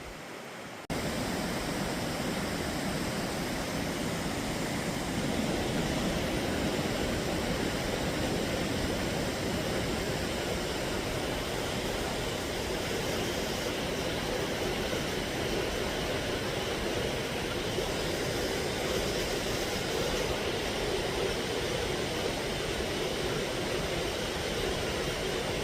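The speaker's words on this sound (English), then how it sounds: "I'm going to leave you with this beautiful waterfall." A waterfall along a hiking trail pours as a steady, broadband roar that holds constant and loud from start to finish after a brief quiet opening, with no voices.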